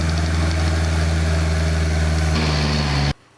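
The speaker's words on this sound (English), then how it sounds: "This Kubota L45 commercial tractor loader backhoe is equipped with a FrontRunner grader rake in place of the bucket" A Kubota L45 commercial tractor loader backhoe fitted with a grader rake runs at a steady, loud diesel idle with a constant low hum, then cuts off abruptly near the end, leaving near silence.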